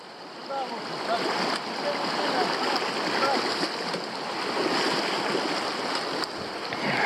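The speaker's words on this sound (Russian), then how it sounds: "Мы переходим реку Мульта." Boots wade across the Multa river in the Altai mountains, with steady rushing and splashing water throughout and faint voices in the background.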